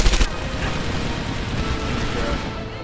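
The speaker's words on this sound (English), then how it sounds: "Especially when I'm firing from the hip like this" Hip-fired gunfire in Medal of Honor: Airborne, a dense, continuous crackle of shots with a heavier burst at the start, loud and close against a busy battle din.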